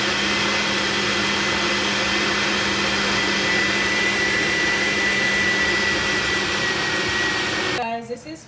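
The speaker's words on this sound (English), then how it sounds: "we are just going to puree this" A blender purees chopped ingredients for oxtail and beans, a loud, steady whirring motor drone running close up for several seconds before cutting off abruptly near the end.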